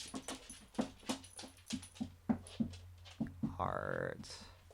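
A dog gives a string of short, high whimpers and yips in an uneven rhythm, close and moderately loud, ending in a longer rising whine, with a person speaking nearby.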